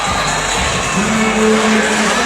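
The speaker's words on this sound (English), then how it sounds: "And the crowd erupts." A basketball arena crowd at a WNBA Finals game erupts in sustained, loud cheering and shouting, a broad roar of many voices filling the space with no clear individual talk.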